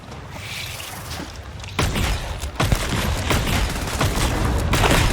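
Dense, loud gunfire rattles almost nonstop through a firefight in the video game Starfield, starting quieter and then building into sustained bursts of shots with crashing impacts.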